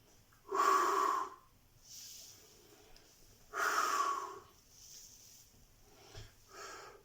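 During a glute bridge exercise, two strong, forceful breaths out come near the mic a few seconds apart. Softer, shorter breaths follow between and after them.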